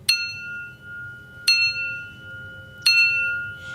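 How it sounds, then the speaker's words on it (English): Three sharp, bright strikes of a handbell ring out at even intervals, each one sustaining a clear tone that slowly dies away. The bell is heard alone, with no voices, as the loud wake-up bell of a sea captain in a radio drama. "announces today with his loud "Get out of bed" bell."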